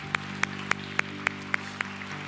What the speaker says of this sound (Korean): 하나님께 우리 감사와 영광의 박수 드리겠습니다